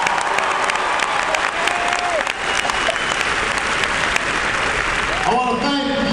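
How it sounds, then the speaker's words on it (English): Sustained, dense applause from a large crowd at a campaign rally in Missoula, Montana, steady and full throughout, with a voice emerging near the end. "Please give Nathan a big round of applause."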